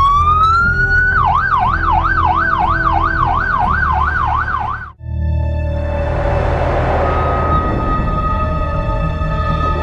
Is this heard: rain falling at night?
no